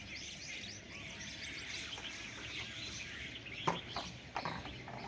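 Peafowl, six or seven of them, come to feed in a farm field beside a home, with steady bird chirping throughout and a few sharper calls rising near the end.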